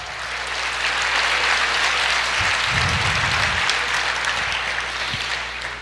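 Church congregation applauding during a Portuguese-language sermon, an even, sustained wash of clapping from a large room with a low hum beneath and a brief rumble midway.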